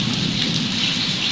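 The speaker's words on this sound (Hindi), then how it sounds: "तेज़ हो गई बारिश," Heavy rain pours steadily and loudly during a Hindi-language monsoon outing, a dense continuous roar with wind and no voices.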